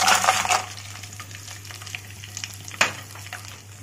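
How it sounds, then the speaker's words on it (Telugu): Peanuts and urad dal fry in hot oil for a gongura fried rice, a steady close sizzle with a burst of crackle at the start and a brief stir clatter midway. "మినపప్పు అండి ఇవన్నీ కాస్త ఫ్రై అవ్వాలి"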